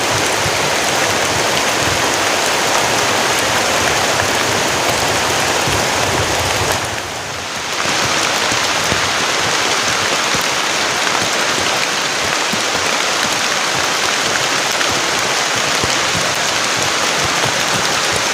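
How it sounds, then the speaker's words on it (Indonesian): Heavy rain pours down steadily in a forest during a stormy camping trip, a loud, dense, continuous hiss that dips briefly for a moment before resuming at full strength. "Ini hujannya lama banget teman-teman."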